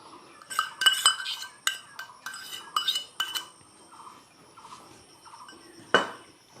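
Metal utensils clink and scrape against a pan in a home kitchen while onion paste goes in for soya pakora. Sharp irregular knocks come in quick clusters, then softer stirring scrapes and one final louder clank.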